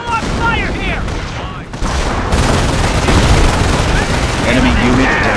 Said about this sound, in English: Taking small arms fire here!